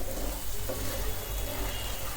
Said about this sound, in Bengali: একটু 2 থেকে 3 মিনিট কষিয়ে নিব এভাবে।